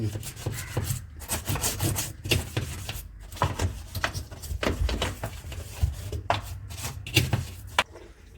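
An old brush scrubs dirty washing machine parts in steady, rough back-and-forth strokes, close and fairly loud, with short pauses between bursts of rubbing.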